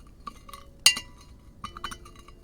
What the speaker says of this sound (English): I'm gonna try and stir this without completely murdering your guys' ears.